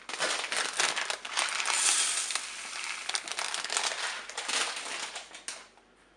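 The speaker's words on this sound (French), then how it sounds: "vous versez le riz dans la cuve." Rinsed rice pours into the bowl of a Cookeo cooker, a dense granular rattling and hissing cascade that swells and eases over several seconds before trailing off, close with no voices.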